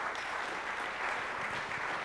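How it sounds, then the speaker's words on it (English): Audience applause at a company keynote event, steady dense clapping from a seated crowd filling the room for the whole stretch, with no voices over it. "Freddy deserves a round of applause."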